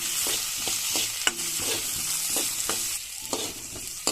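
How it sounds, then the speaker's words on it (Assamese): Fenugreek seeds sizzle and fry in a pan over a low flame while a utensil stirs them in quick, frequent scrapes, a steady close crackle punctuated by sharp clicks of metal on the pan. "চিমত জুইটো দি এনেদৰে খুব ঘন ঘনকৈ লৰাইছোঁ"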